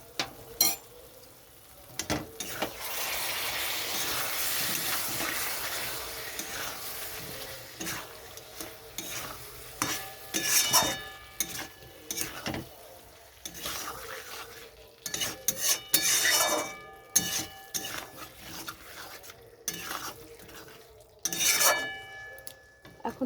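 Ginger garlic paste and spices fry in a pan for a Bengali fish kosha. A soft sizzle runs under repeated scraping and clinking stirs that come in bursts, with no talk.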